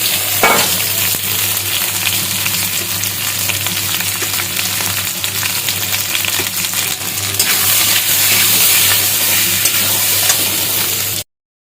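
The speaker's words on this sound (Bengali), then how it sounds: "দেখো তেল গরম হয়ে গেছে আর এখন এর মধ্যে দিয়ে দেবো আলু" Potatoes frying in hot oil in a kadai give a loud, steady, crackling sizzle that runs unbroken until it cuts off abruptly near the end, with no voices.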